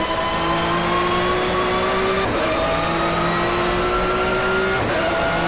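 A 1994 touring car in the GTR2 racing game at Donington revs hard through third gear, its steady engine whine rising in pitch, dropping sharply at two gear shifts, then climbing again, loud and continuous with no talk.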